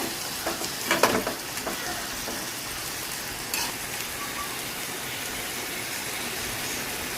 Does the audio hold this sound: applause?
no